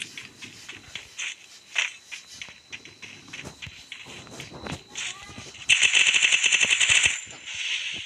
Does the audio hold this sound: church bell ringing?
no